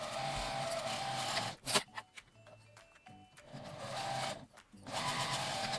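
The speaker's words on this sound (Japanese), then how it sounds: "両端を1センチの縫い代で縫います。" A sewing machine stitches the side seams of a slim fabric card case with a 1 cm seam allowance. It runs in two steady bursts at the start and end, with quieter handling noises and short clicks between them.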